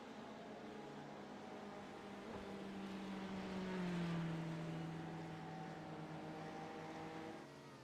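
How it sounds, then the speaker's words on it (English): A Porsche GTE race car in a racing video game spins through donuts, its engine note steady and droning, swelling slightly as it rotates, heard alone without talk. "doing some donuts down in turn 1"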